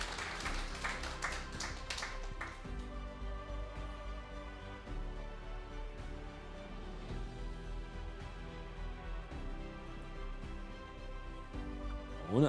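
Scattered clapping from an audience at the Saules Laivas adult education award ceremony in Latvia, a few distinct claps at first then a softer, thinner patter under background noise.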